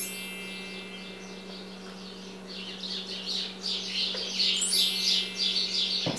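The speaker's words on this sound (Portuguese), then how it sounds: "Os passarinhos aqui no meu pé de maracujá. Tem um ninho de passarinho." Small birds chirp repeatedly in a passion fruit vine near a nest, bright overlapping tweets growing busier and louder toward the end over a steady low hum.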